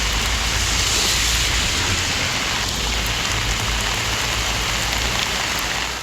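Heavy rain pours down steadily over the Aranthangi area of Pudukkottai district, Tamil Nadu, making a dense, unbroken roar of hiss that stays loud and even throughout, with no voices.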